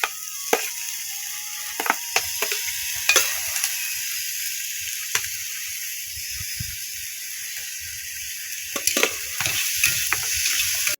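Greens and onion frying in oil in a pan, a steady bright sizzle carrying through with repeated scraping and clacking stirring strokes, some sharp and close, with no voices.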